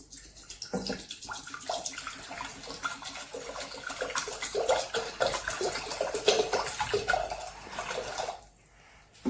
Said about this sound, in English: Pour this into the pot.